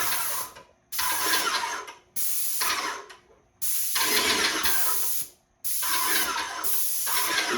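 Inokraft M1 airless paint sprayer applying primer and paint, loud hissing spray bursts about a second or two long, five in a row separated by short silent pauses, close to the microphone with no talking.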